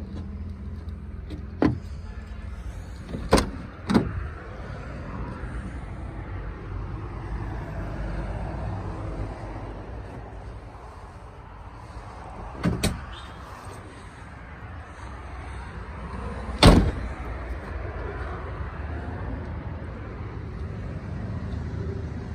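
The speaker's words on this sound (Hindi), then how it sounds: "इसकी डिक का भी मुश्किल तरीके से खुलती है, क्योंकि ये पहला खुलना पड़ेगा और उसके बाद डिक खोल लेंगे।" Door and trunk of a 1983-84 Mitsubishi Pajero jeep registered in Peshawar being opened, the door first because the trunk is awkward to open: a few sharp, close latch clunks and clicks spread apart over a steady outdoor background hum.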